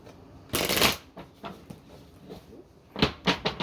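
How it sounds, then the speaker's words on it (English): An Illuminati tarot deck is shuffled in quick riffling bursts, one longer burst followed by several shorter ones, with soft papery flutters between them, close and fairly quiet. "do one more good shuffle here."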